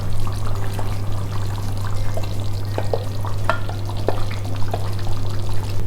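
Bright orange Gassi sauce poured into a hot pot for Mangalorean chicken curry, giving a steady close sizzle with scattered pops, splutters and faint stirring clinks.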